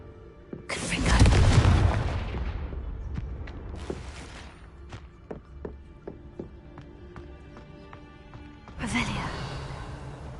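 A fire-blast spell in Hogwarts Legacy, the Confringo curse, erupts in a loud booming burst that rolls off into crackling debris and scattered taps, with a second, smaller blast near the end.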